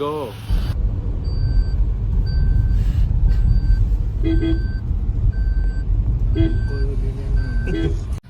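A car sets off with a low, steady engine rumble that holds from start to finish. Short tonal beeps sound on and off, and people talk inside the vehicle.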